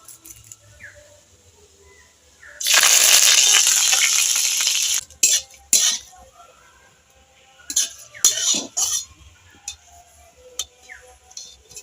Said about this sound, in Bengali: এই কারি পাতাগুলো ভেজে নেব